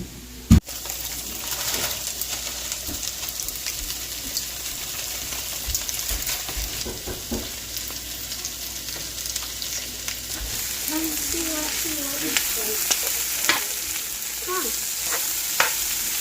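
Sausage, onion, garlic and roasted vegetables frying in a pan, a steady close sizzle with scattered stirring clicks and scrapes that grow busier toward the end.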